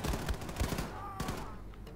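Bursts of gunfire in the shooter Wolfenstein 2 arrive as a rapid fusillade of cracks up front that then thins out, with a voice talking through the shooting.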